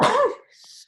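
A single sharp sneeze-like burst, loud and close, trailing off into a faint breathy hiss.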